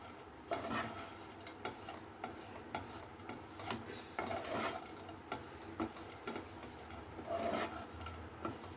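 Mawa with dry fruits and green cardamom being stirred in a pan for Rajasthani mawa kachori, giving a steady rasping scrape of spoon against metal with repeated stirring strokes, close and moderately loud, with no talking.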